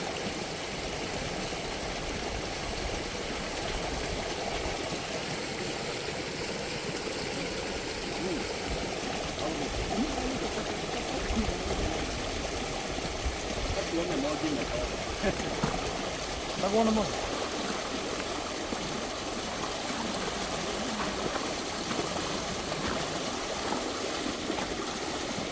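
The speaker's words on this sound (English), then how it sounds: "There's a lot of water release." Outflow from a fish pond in Kenya gives a long, unbroken wash of rushing water, steady and fairly loud, with faint scattered voices showing through around the middle.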